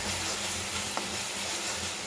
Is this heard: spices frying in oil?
yes